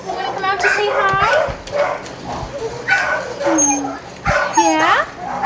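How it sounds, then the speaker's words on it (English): Young beagles whimpering and yipping up close in repeated high, wavering cries and short yelps, with people talking over them. "It's young beagles."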